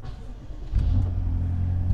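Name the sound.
BMW X5M/X6M car engine being started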